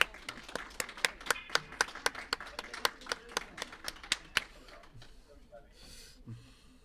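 Spectators at a men's and women's curling playdown tiebreaker clap in a steady, evenly spaced rhythm of sharp claps for about four seconds, then fade into quieter rink ambience.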